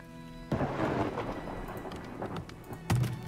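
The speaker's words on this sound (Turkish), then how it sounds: "Non-stop yağmur yağıyor." Steady rain in the video game Farthest Frontier, a dense hiss of falling drops with a thunder rumble starting abruptly after a quiet opening and a second burst near the end, full and close, with no talking.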